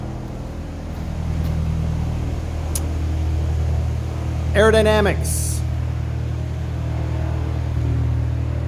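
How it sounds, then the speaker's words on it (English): A low, steady engine rumble of an aircraft passing at a distance, with someone speaking briefly over it. "There's an airplane going by."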